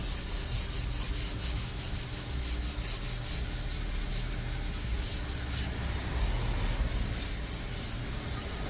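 A drill-driven scrubbing brush works over dirty car upholstery seats, a steady continuous rubbing and whirring scrub that holds close and loud throughout with no pauses.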